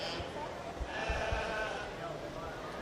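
Black face market lambs bleating at a 4-H/FFA sheep show ring, several short calls rising over a constant murmur of crowd and arena noise, with people talking in the background.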